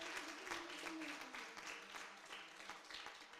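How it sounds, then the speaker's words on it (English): Audience applause at a Puja fashion show and pageant, a dense patter of clapping from a crowd, somewhat distant and faint, with some voices mixed in. "Could we have a round of applause for these wonderful ladies who've worked so hard?"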